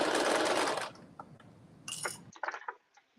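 Sewing machine runs a side seam joining a garment front to back, a brief loud whir of under a second, followed by scattered small clinks and clicks.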